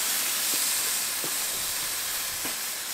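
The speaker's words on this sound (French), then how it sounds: "On va commencer par saisir notre viande" A leg of lamb sears on a hot barbecue grill with rosemary, a steady close hiss of sizzling meat running throughout with a few faint ticks.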